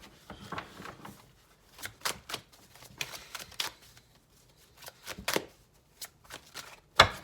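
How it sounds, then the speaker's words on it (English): Tarot cards shuffled by hand, with cards spilling out in clumps: soft riffles and sharp flicks come in scattered bursts, close and quiet, with no voices. "the cards are flying out, but they're not really, they're flying out in too big of groups"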